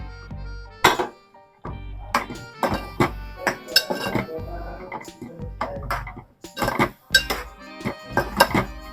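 A metal spoon clanks and scrapes against a pan while Koli-style pomfret fish curry is stirred, with irregular clinks and knocks repeating throughout, fairly close and loud, with no talking.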